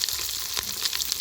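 Onion and broken green chili drop into hot oil with mustard seeds in a pan for village-style raw jackfruit bassaru, a loud close hissing sizzle with crackles throughout.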